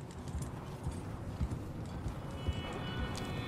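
Horse hooves clop and thud in a loose galloping rhythm in Red Dead Redemption 2, set against a low wind-like ambience with faint scattered background sounds.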